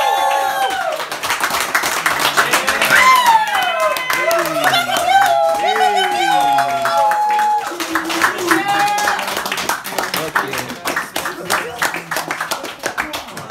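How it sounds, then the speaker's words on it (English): Audience applause and clapping at a beat show, a dense crowd-wide patter carrying on steadily throughout, with cheering and sung or spoken voices mixed over the clapping. "Another round of applause"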